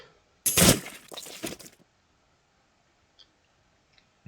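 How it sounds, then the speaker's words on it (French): Gore sound effects from a self-made video game, a loud wet crunching splatter burst followed by a shorter squelch, then near silence broken by faint clicks. "Voilà des bruits gore."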